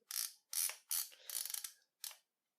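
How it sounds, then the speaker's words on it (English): Leaf shutter of a Stereo Colorist II stereo camera with linked twin lenses, firing five times in bright, clacking mechanical bursts with short gaps between them, up close and alone. "The shutter itself is kind of loud for a leaf shutter"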